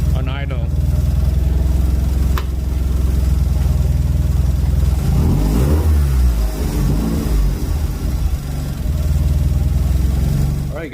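A Mazda RX-7 FD rotary engine idles after running for some time, a steady low drone with a brief rise in revs midway, heard up close under the running engine.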